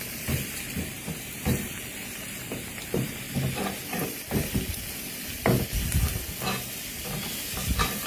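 Flank steak sizzles quietly on an Ovana sizzle tray, a soft continuous hiss broken by scattered taps and scrapes of utensils moving the meat.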